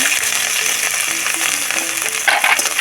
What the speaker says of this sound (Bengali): আদাটা ভালো করে ভেজে নেব